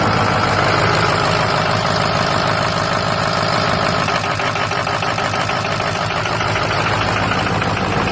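A 2005 6.0 diesel engine idles loudly and up close, with a steady rough clatter and knocking rhythm throughout and no voices over it.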